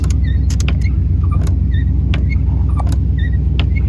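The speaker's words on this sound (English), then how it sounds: "Oh, God, I got the wipers on somehow" Windshield wipers running on a 1995 vehicle fitted with 33-inch Duratrac tires, with faint squeaks and creaks over a steady low engine idle hum, no talk.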